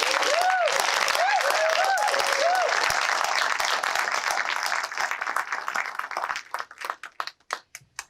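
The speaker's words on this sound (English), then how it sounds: "I just wanna have another round of applause for all of you amazing" Loud crowd applause with a few whoops at a film Q&A, thinning out toward the end into scattered individual claps.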